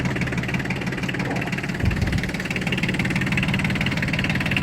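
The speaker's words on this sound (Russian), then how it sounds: "Послушайте, как работает двигатель." A Yanmar AF170 tractor engine idles smoothly and steadily, a close, constant low diesel rumble with a faint knocking pulse, no talk.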